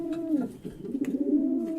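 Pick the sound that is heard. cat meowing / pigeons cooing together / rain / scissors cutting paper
pigeons cooing together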